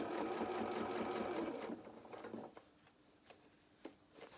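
A sewing machine runs steadily, stitching a shirt sleeve cuff, loud and continuous for about a second and a half before stopping, followed by a few faint handling clicks and taps of the fabric.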